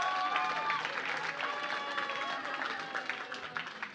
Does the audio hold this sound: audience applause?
yes